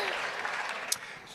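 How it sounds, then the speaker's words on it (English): Audience applause and cheering at a charity event, a dense wash of clapping hands from a crowd with a sharp whoop or shout standing out near the end. "the crowd went wild"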